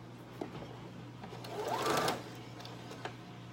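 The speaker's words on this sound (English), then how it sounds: "I'm going to sew down the sides now." A sewing machine sews down the sides of a pillow made from dollar-store place mats. The stitching is faint and soft and builds to a short louder run in the middle.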